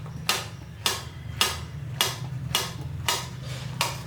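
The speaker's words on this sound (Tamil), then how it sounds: "இந்த மாதிரி கட் பண்ணி எடுத்து வச்சுக்கலாம்." Green bananas being sliced with a kitchen knife for a sponge cake, seven sharp regular chops striking a board about every 0.6 seconds under a steady low hum.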